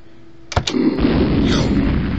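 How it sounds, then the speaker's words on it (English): A loud sound-effect explosion bursts out after a quiet lead-in, two sharp cracks followed by a sustained rumbling roar that decays slowly. "Okay, that's all the explosions you get tonight."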